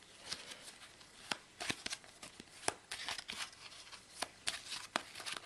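Small oracle cards are shuffled and handled close up, giving a series of soft, crisp riffling flicks and taps in an otherwise quiet room.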